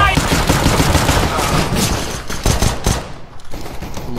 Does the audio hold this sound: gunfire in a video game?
yes